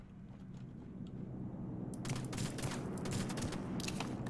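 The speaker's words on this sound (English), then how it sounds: "I think that's a SVD shooting at me." Gunfire from an SVD sniper rifle in the battle royale game Rules of Survival, a series of sharp cracks beginning about halfway through over a steady low ambient rumble, several shots in quick succession and moderately loud.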